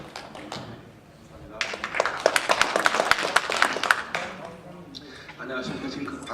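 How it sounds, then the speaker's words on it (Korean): A small audience at a Korean civic rally claps to welcome a speaker, a short burst of distinct hand claps that swells, holds for a couple of seconds, then fades into quieter room noise. "박수로 환영해 주십시오."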